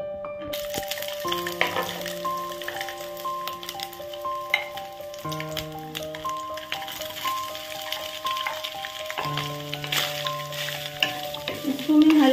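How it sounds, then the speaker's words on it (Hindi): Soya chunks fry in hot sesame oil with a continuous soft sizzle and occasional stirring clinks. Gentle tonal background music plays over the frying. "इसको मैं हल्का सा फ्राई कर लूंगी।"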